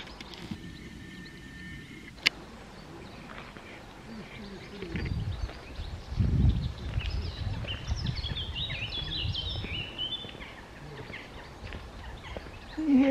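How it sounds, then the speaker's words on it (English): Birds call outdoors at Creswell Crags, a limestone gorge with caves and a lake, with scattered chirps and gobbling-like calls at a distance over wind and footsteps, while people talk faintly nearby. "The birds."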